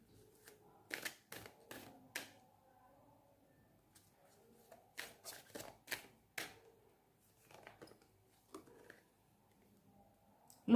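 Tarot cards shuffled and drawn, a series of brisk flicking and snapping bursts in clusters with quiet gaps between, close and fairly soft, no talking.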